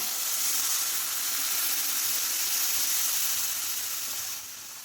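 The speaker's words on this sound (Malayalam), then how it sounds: "അര ലിറ്റർ പാലൊഴിച്ച് ഒന്ന് ഇളക്കി കൊടുക്കാം" Half a liter of milk poured into roasted semolina for a sweet halwa, hissing and sizzling in a steady, close wash that stays level for several seconds and then softens slightly near the end.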